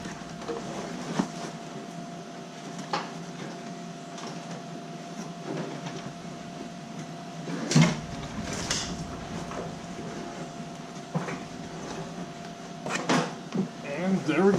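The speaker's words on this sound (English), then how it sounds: "Pop the hatch." A DSM car's rear hatch is popped open during a home build, with a few sharp clunks and latch knocks standing out from a dull, steady background hum.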